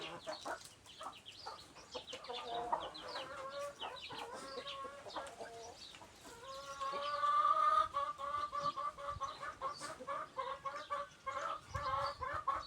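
Chickens cluck repeatedly at a rural Isan home, a busy, fairly close flock with overlapping clucks and calls rising to a louder burst midway, with no speech.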